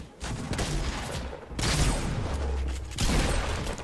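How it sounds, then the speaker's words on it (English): Sustained bursts of rapid gunfire in Fortnite Battle Royale crackle loudly in several waves, with brief lulls between volleys and a dense, noisy, game-like texture. "Someone behind us is clearly shooting us as well."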